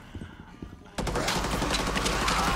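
Sudden dense, sustained gunfire bursts out in the video game Rainbow Six Siege during the Operation Outbreak event, following a quieter stretch with faint voices.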